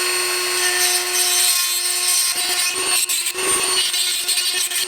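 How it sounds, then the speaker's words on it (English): A Dremel grinds and ports an 87 mm throttle body on a sixth-generation Camaro LT1, giving a loud, continuous high-pitched whine with rasping grinding that shifts as the tool bites into the metal, close up with no talk. "I'm gonna be using a Dremel here, and then I've got kind of like some grinder wheels and stuff here"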